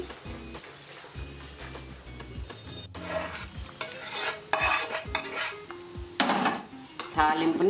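A hot tempering is poured over tamarind rice and mixed in: a spoon scrapes and clatters against a metal vessel with bursts of sizzling, close and moderately loud, with no talking.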